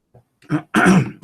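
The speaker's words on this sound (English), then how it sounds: "if I do stop sometimes and cough, it's because I just have a very dry throat" One person clears a dry throat with a short rasping cough, a few brief close bursts separated by tiny gaps, with nothing else around it.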